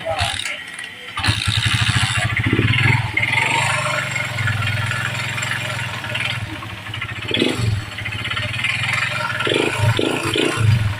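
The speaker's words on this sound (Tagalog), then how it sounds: "Connecting rod po yung may ingay dyan mga bossing." A six-year-old engine runs steadily with a rough, clattering knock from a worn connecting rod in its idle, loud and close, while people talk over it.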